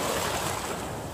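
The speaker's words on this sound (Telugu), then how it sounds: "ఈ అలల శబ్దం వింటుంటే" Water waves wash steadily at the Sripada Yellampalli river barrage, a broad, continuous rushing surf with no distinct breaks, heard alone and fairly close.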